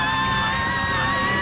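An anime character lets out a loud, sustained yell during a fight, one continuous strained shout held for over a second.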